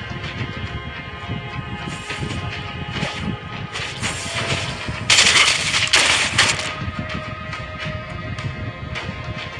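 Rapid, continuous video game gunfire from the character Clint rattles loudly over a dense backdrop of game effects and music, swelling to a heavier burst midway.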